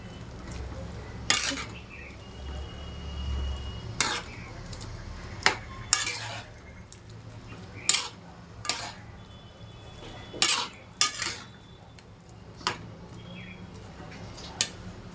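Soybean curry being stirred in a pan with a spoon, giving repeated scraping clinks and knocks against the metal at an irregular pace, with a faint sizzle underneath and no talking.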